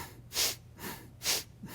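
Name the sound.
bellows breathing, rapid forceful breaths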